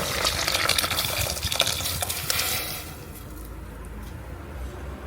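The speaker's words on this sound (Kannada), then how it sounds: "ಈಗ ಬೇಯಿಸ್ಕೊಂಡಿರುವಂಥ ಬೇಳೆಯನ್ನು ಕೂಡ ಇದಕ್ಕೆ ಸೇರಿಸ್ಕೊಳ್ಳೋಣ" Cooked lentils poured into a simmering pot of temple-style Mangalore cucumber sambar give a close, wet sloshing and splashing, loudest at first and then settling into a soft liquid bubble.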